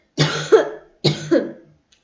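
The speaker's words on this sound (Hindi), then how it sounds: "सॉरी, थोड़ी खांसी आ गई थी।" A person coughs twice, close and loud, each a short harsh burst about a second apart, with nothing else heard.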